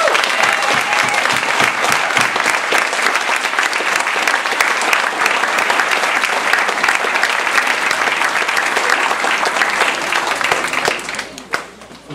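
An audience at a Toastmasters table topics contest claps for the contestants. The applause is dense and sustained, then fades out near the end.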